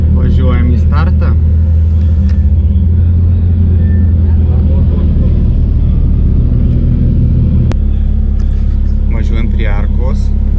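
A rally car at Rally Daugai 2024 rolls toward the start line, its engine a loud, steady low rumble throughout with a brief change in tone partway, while people talk inside the car over the noise.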